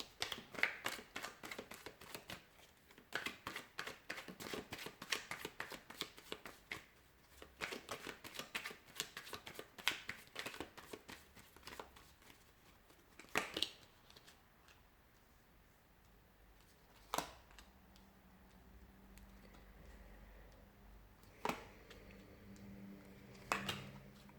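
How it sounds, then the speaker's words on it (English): Tarot cards riffle and flick rapidly in a long run of crisp ticking, then slow to a few separate snaps and taps, close and quiet. "So we'll give the cards a shuffle"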